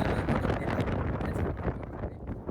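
Strong wind blows hard into the microphone outdoors during a visit to the Mantralayam temple town. It makes a dense, buffeting roar that keeps up loudly for the whole stretch, with no clear speech.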